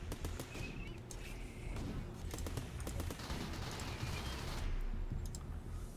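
Rapid gunfire crackles in a RimWorld firefight, irregular bursts of shots stacked over steady low battle noise, continuous and moderately loud for several seconds.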